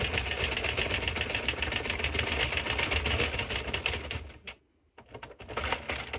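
A knitting machine carriage slides back and forth across the needle bed, making a dense, loud mechanical clatter and whir that runs steadily before briefly stopping and starting again.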